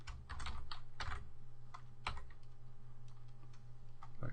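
Fast bursts of computer keyboard typing come in quick clusters over a low steady hum, close and fairly quiet, with no talk.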